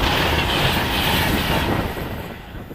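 A train rushes past close by on a railway with a loud, broadband roar and rattling wheels, fading away over the final second.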